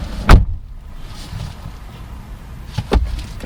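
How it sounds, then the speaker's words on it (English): Two solid thuds of a 2022 Chery Tiggo 8 Pro SUV door shutting, one near the start and another near the end, with a quiet cabin hush in between. "let's shut the door."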